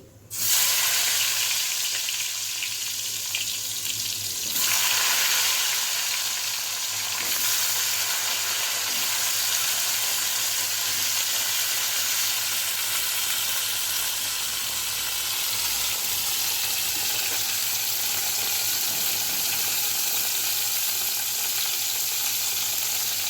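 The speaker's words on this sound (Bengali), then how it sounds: "প্রথমে বেগুনটা ভেজে নিচ্ছি।" Eggplant pieces fry in hot oil in a wok, giving a loud, steady sizzle that runs throughout with no talking.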